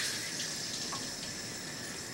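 Water running from a tap as a steady hiss, a soft constant flow close by with no voices.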